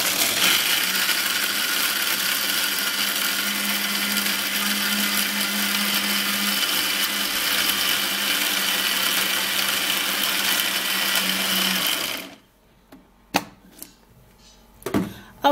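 A blender whirs steadily as it blends peanuts with a little water, a loud constant motor whine for about twelve seconds before it stops abruptly, followed by a few faint clicks and knocks.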